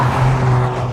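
Toyota GR Corolla carrying speed through a corner, a brief, steady engine drone with a strong low tone, heard close and without voices.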